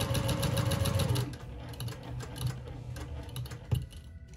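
A sewing machine fitted with a walking foot stitches tea bag quilt pieces, giving close, rapid, regular clatter, loud for the first second and then continuing more quietly in bursts.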